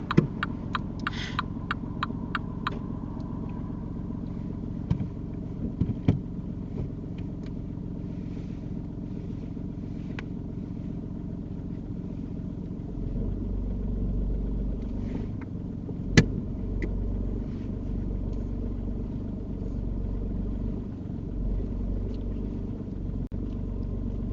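A learner driver's car reverses about two car lengths close to the curb during a UK mock driving test, a steady low engine hum that deepens and grows louder partway through, with a few faint clicks and knocks inside the cabin.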